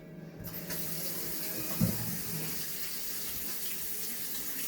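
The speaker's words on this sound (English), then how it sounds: "And then after that, I'm going to wash my hands." A kitchen tap runs steadily while hands are washed beneath it, giving a constant close hiss of flowing water. One brief knock is heard partway through, and there is no talk.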